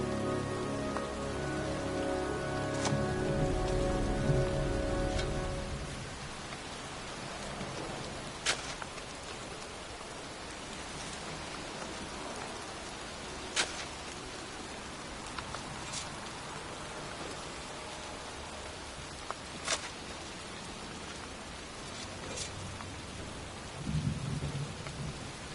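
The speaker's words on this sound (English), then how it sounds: "standing in a cemetery in pouring rain" Pouring rain hisses steadily in a cemetery in the video game Heavy Rain, with a deep rumble of thunder at the start and sharp drip and crack accents scattered through, no talking.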